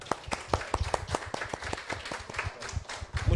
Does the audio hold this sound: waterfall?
no